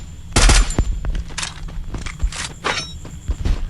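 XM8 rifle fire in a shooting video game: several quick bursts and single shots crack out loud and close, spaced irregularly, with footsteps and faint game noise between them.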